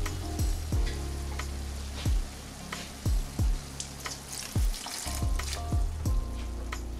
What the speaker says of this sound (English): we're just gonna let this simmer in that veggie stock for about 5 minutes